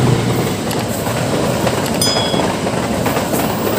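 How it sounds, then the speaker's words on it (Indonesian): The Jayabaya passenger train in Indonesia rumbles past close by, loud and continuous, with a brief high metallic squeal partway through. "Ini dia guys, kereta apinya."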